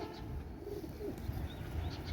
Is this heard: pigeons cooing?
yes